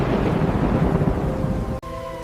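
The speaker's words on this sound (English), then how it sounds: "The sky was covered with dark clouds. Rain poured through the streets." Steady, loud rain pours through city streets during a nighttime thunderstorm, a dense continuous wash with low rumble that cuts off briefly near the end before resuming.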